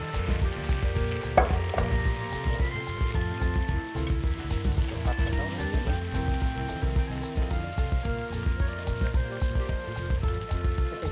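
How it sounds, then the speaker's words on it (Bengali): Pasta fries in a pan for Alfredo chicken pasta, with a steady crackling sizzle throughout over a low background hum, close and continuous with no voices. "পাস্তাটাকে একটু আমি ভেজে নিই।"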